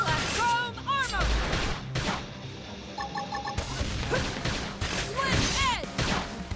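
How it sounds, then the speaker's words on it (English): Bursts of gunfire and impacts in a chaotic combat fight in Xenoblade Chronicles X, with music and effects layered throughout. "Knock 'em over with gunfire."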